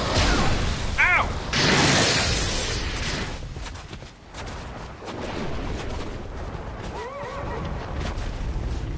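Horse neighs twice in a video game, short whinnying calls rising over loud, dense battle noise with booms and clatter, a voice reacting in between.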